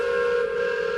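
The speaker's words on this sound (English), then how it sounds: "The train whistle goes off." A loud, steady train whistle blares in a video game, a sustained tonal blast holding at full strength for the whole second with no voices over it.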